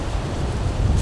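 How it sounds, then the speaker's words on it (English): Cold wind gusting outside a yurt, a steady low rushing buffet against the microphone that swells slightly toward the end of a brief moment. "That wind on the face."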